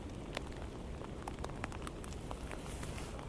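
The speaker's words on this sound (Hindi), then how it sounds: "बारिश हो रही है।" Steady rain falls outdoors near the Washington Monument in Washington DC, an even wash of close patter with scattered brighter drops striking surfaces, continuous and moderately loud with no talking.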